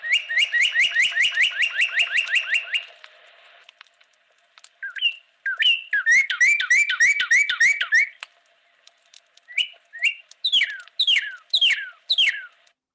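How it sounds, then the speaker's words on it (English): A northern cardinal sings loud, clear, close slurred whistles: a fast run of repeated downward notes, then two more bursts of rapid chirping phrases separated by short pauses. "Now listen to the cardinal."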